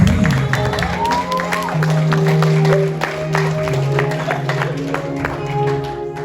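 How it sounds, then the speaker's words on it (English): An audience at a Samoan pageant night applauds a contestant, with scattered claps and crowd noise under sustained tones and voices. "Ladies and gentlemen, a round of applause for contestant number 3"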